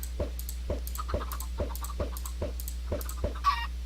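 Rhythmic Minecraft chicken clucks repeat about every half second, soft and evenly spaced over a low steady hum, ending with a brief brighter squawk.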